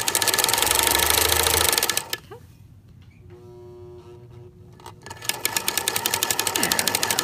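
A domestic sewing machine stitches through a knitted sweater to secure a steek, running in a fast, even clatter, stopping for a few seconds of quiet handling, then restarting with the same rapid mechanical rhythm.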